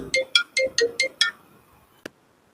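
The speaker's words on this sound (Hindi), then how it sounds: "चलिए एक कॉल आ गया था" Mobile phone ringtone from an incoming call, a run of six bright melodic beeps in quick rhythm, close and clear, followed by a single click and near silence.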